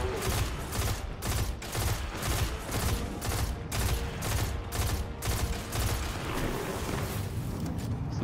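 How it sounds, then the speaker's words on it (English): Rapid, sustained gunfire from a Destiny 2 firefight, dense repeated shots in a steady rhythm over several seconds, loud and continuous with no talking. "Gotta strafe and shoot, strafe and shoot."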